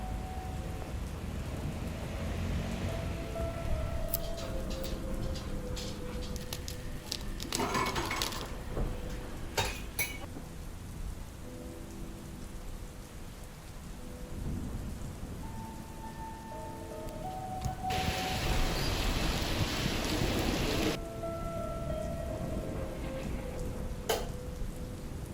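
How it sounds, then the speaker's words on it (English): Steady rain falls through a gloomy day as a broad, even hiss, with scattered clicks and brief tonal mechanical sounds over it and a louder surge of rain noise near the end; no thunder stands out and no one speaks. "Such a gloomy day. It's been raining all day."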